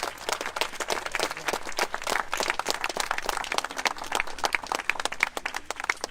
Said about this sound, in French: Applaudissons Gaston.